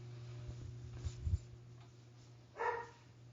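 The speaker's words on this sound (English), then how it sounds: "my dog's barking." A pet dog barking in the background of a home, a couple of short muffled barks, faint and distant against low room hum.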